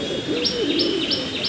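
Pigeons at a home loft, a hen among them, give a close, loud low coo along with a quick run of repeated higher chirps, with no voices.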